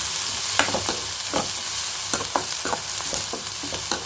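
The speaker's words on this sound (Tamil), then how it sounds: "இப்போ வெங்காயம் நல்லா வதங்கிட்டு இப்போ வெங்காயம் நல்லா வதங்குது பாருங்கள்." Onions sauté in a pan for a dried-fish thokku, with a continuous close sizzle broken by frequent scraping stirs of a spoon at a regular pace. No voices.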